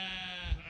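A sheep gives one sustained bleat, a nasal, wavering cry that lasts under a second, close and fairly loud, with a small thump near its end.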